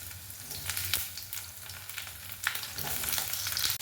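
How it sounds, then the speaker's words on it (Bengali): Cut eggplant frying in hot mustard oil in a kadai for begun bahar: loud, dense crackling sizzle up close with brief spatter bursts and no talking. "এইভাবে কেটে রাখা বেগুনটা আমি ভেজে নেবো"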